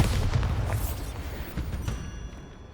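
A Bombarda blasting-spell explosion in the Hogwarts Legacy video game: a loud, deep booming blast with rumbling debris that slowly fades over a few seconds, no talk.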